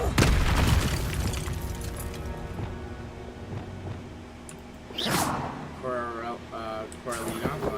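Fiery spell blast from a wand in the fantasy action game Hogwarts Legacy, with a loud booming whoosh near the start and another swelling burst midway, heard beneath background game music and sound effects.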